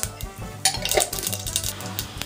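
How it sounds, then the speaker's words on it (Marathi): Mustard seeds crackle and sizzle in two spoonfuls of hot oil heated for stuffed brinjal, with close stirring clatters and scraping against the pan running throughout. "तर त्यासाठी 2 चमचे तेल गरम करून घ्यायचं। यामध्ये थोडी मोहरी घालायची"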